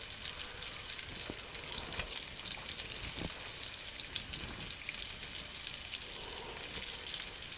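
Porcupine meatballs made with rice brown in a pan, giving a steady, dense sizzle of frying with scattered crackles and pops throughout, close and continuous with no talking.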